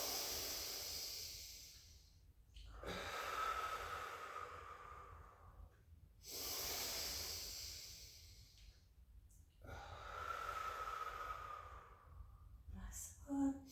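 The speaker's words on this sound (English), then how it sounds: "just hold the pose. Again, 3 deep in out breaths." Three slow, deep breath cycles during a Pilates balance pose, each a long airy inhale and exhale close to the microphone, separated by quiet pauses. No one speaks.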